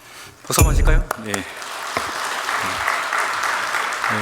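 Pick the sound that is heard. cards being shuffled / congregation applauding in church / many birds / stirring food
congregation applauding in church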